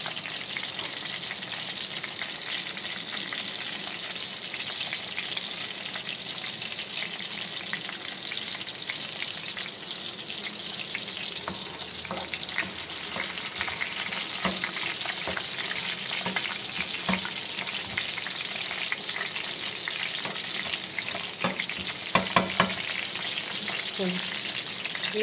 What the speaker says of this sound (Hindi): लहसुन थोड़ा सा ब्राउन हो गया, अब डाल देते हैं कड़ी पत्ते।